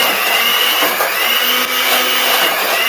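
An electric mixer beats butter for teacake batter in a home kitchen, a loud, steady whirring motor hum that runs continuously and close without a break.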